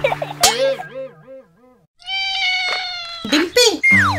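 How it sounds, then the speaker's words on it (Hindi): A kitten gives several high, wavering meows, some short and some drawn out, close by, with a brief gap of near silence midway. "तुमने बिल्ली का बच्चा कहाँ से लिया?"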